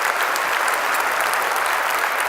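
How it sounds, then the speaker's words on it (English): Sustained audience applause greets Grant and the Heinz Endowments at a Julián Castro speaking event, a steady dense wash of many hands clapping at full volume throughout with no break. "Let's give Grant and the Heinz Endowments a big round of applause for everything that they're doing."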